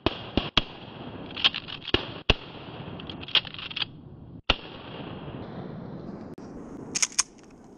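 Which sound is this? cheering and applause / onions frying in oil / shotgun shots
shotgun shots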